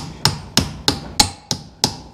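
An Amish farrier's hammer strikes six times at an even, steady rhythm of sharp ringing metallic blows, close and distinct with no talking.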